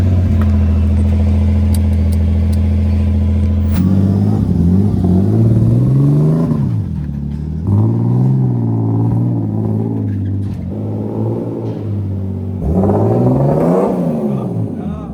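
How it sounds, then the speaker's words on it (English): A turbocharged BMW E36 323 revving on a dyno, loud and close: a steady drone, then repeated rising and falling rev sweeps with short dips between them, no talk. "The car is now ready for a 1000 horsepower dyno run."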